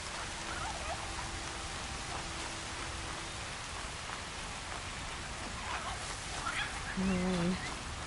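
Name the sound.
rain in video game Horizon Zero Dawn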